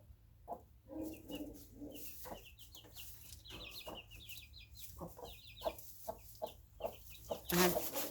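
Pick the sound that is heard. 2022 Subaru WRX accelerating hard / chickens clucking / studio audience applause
chickens clucking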